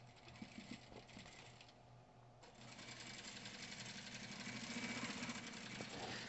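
A sewing machine runs steadily while stitching a fabric side seam, its fast mechanical hum building slightly louder toward the end, with no talking over it.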